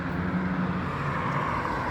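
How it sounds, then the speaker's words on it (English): Steady road traffic noise, a continuous dense roar of passing vehicles at moderate loudness with no voices over it. "I get more drunk listening to the traffic noise than a beer."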